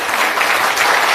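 Audience applause fills a state-level campaign committee workshop hall, a steady, dense clapping from a large crowd, loud and continuous throughout with no voices on top.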